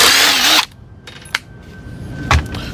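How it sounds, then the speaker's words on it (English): A power drill whirs at high speed for about half a second while backing screws out of glued hardwood, then stops. Brief clicks and a thud follow in a quiet room. "We're going to back out these two screws right here."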